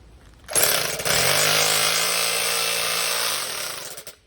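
A worn-out rotary hammer drill, a Milwaukee 5300 or Skil 726, bores into concrete with a loud, steady, hammering motor roar that kicks in after a brief pause and runs continuously for several seconds before cutting off.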